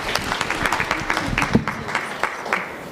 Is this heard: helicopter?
no